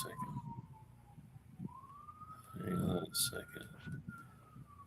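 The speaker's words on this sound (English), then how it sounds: "you hear the ambulances going by and the fire trucks?" Ambulance and fire truck sirens wail, sweeping up and down at a distance as they pass, with traffic rumble and a voice speaking briefly over it.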